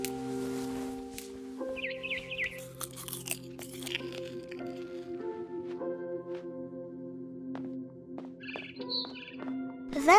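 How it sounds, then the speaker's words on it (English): Barn swallow chirping in the video game What Remains of Edith Finch, several short bright twitter bursts around mid-clip and again near the end over a steady droning ambient tone, with crunchy bites scattered through. "Then I heard chirping outside my window."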